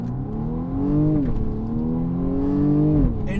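A BMW M235i Gran Coupe with 301 horsepower pulls hard from inside the cabin, its engine note climbing steadily through the gears with a brief dip at each shift, loud and continuous with no talking.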